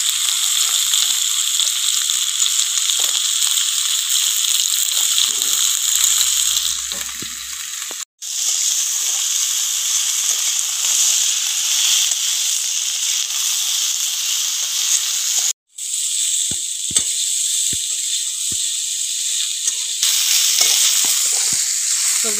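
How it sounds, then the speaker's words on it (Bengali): Potato and pumpkin chunks, already fried red, sizzle steadily in hot oil along with pointed gourd and vine spinach stems for a pumpkin potato curry, a loud continuous hiss broken by two brief cuts. "আলু কুমড়োটা লাল করে ভেজে নিয়েছি। এবার এর মধ্যে পটল আর পুঁই ডাঁটাটা দিয়ে দেবো।"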